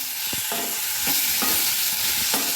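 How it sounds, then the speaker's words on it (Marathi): Flame-roasted eggplant being stirred into fried spices in a pan for bharit, with a spoon scraping in several distinct strokes over a constant loud sizzle, heard up close with no voices. "गॅसवर वांगी भाजून घेतलेली ती घालत आहे। आता तीही मिक्स करून घेऊया।"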